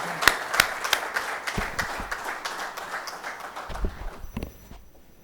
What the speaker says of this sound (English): he deserves a very big round of applause